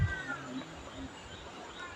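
Temple cats meow softly at a Buddhist temple, a few faint, drawn-out cries over a low background murmur, with a muffled thump at the very start.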